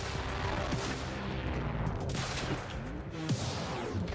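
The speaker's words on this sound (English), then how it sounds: "Got more people shooting at me?" Rapid gunfire in the video game Quantum Break, a dense, continuous barrage of shots and bursts filling the whole stretch at steady loudness.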